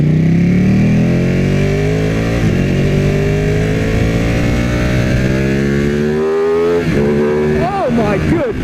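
A 2016 Ducati 959 Panigale motorcycle accelerates onto a highway, its engine note loud and close and climbing steadily in pitch through the gears, with wind noise and a voice underneath.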